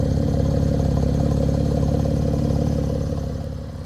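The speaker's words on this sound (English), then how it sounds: "Check out that exhaust sound though." A car's exhaust rumbles close and loud in a steady, pulsing idle as the engine warms up on a frosty cold morning. It eases slightly quieter near the end.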